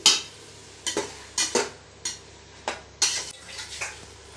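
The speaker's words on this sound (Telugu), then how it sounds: "వేసుకొని మసాలా మొత్తం కలిసేలాగా బాగా కలుపుకోవాలి." Blood pieces are stirred into masala in a pan: a spoon scrapes and clacks against the pan in irregular strokes over a faint sizzle, close and clear.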